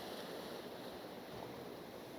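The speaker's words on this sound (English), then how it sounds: "there's a really nice wave coming through here now" Sea waves break on an Isle of Wight shore in pouring rain, heard as a steady, broad wash of surf and rain hiss with wind rumble, continuous and fairly distant, no talking.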